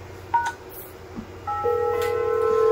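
A Grandstream video door intercom system ringing, with a few short electronic beeps followed by a sustained steady electronic ring tone that keeps building, heard close over faint background hiss.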